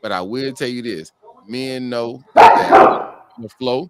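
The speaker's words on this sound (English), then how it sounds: "Mo, is that your dog?" Dog barking in a burst of loud, rough barks midway through, nearby and between stretches of someone talking; the dog may be one of several pit bulls.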